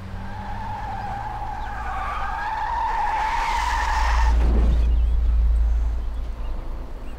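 A car in the video game Mafia brakes hard and skids, a loud tire squeal rising over engine noise and fading after a few seconds, with no speech.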